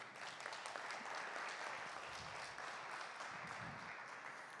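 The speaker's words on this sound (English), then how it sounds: "Can I have a huge round of applause for Sabina?" Applause from a conference audience, a steady wash of many hands clapping at an even, fairly distant level with no talk on top.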